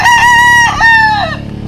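A rooster crows loudly and close by in one drawn-out call, with a brief clucking note mixed in near the start.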